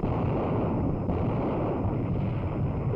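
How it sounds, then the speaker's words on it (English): A warship's guns fire a salvo as a dense, sustained roar of heavy rumbling blast noise that fills the whole stretch with no pauses and no voices. "Commence firing, commence firing."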